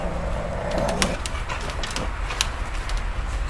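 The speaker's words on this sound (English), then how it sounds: "There's two little birdies up there." Pigeons cooing outdoors in a backyard, soft low repeated coos heard at a moderate distance over a continuous background hiss, with occasional faint chirps and no talking.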